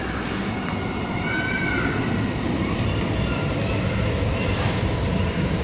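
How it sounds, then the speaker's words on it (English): Tyne and Wear Metrocar trains 4026 and 4035 pulling into a platform at North Shields station, a steady rumbling rail roar with faint wheel squeal, close and continuous. "Now we're driving to platform number 2 at North Shields"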